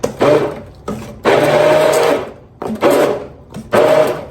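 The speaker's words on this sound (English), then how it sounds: "blending the cantaloupe, just mixing all the ingredients" Loud whirring of a blender mixing cantaloupe pie ingredients in several bursts, each running a second or so with brief pauses between, close and harsh, no talking.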